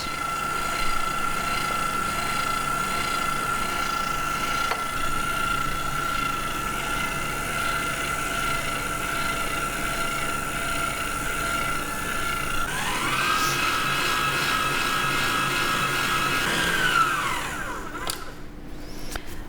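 Electric stand mixer running at speed 4 through vegan, gluten-free chocolate cake batter, a steady high motor whine with a brief pitch shift partway through before winding down, alone and moderately loud.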